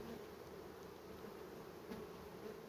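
A steady, dense buzzing of honey bees at a hive frame filled with honey, close and continuous throughout, with no talking.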